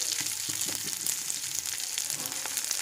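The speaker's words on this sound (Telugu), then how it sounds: "దీన్ని బాగా ఫ్రై చేసుకోండి." Ingredients for ajwain rice frying in a pan: a continuous bright sizzle of hot oil with light stirring taps and scrapes scattered through it, moderately loud and close.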